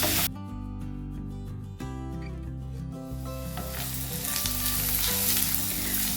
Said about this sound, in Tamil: வெங்காயத்தை வதக்கிக்கணும்.